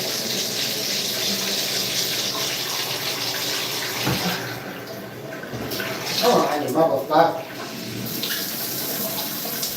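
Steady rush of running water from a shower or tap, continuous throughout, with a man's brief muttering partway through.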